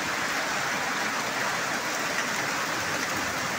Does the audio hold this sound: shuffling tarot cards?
no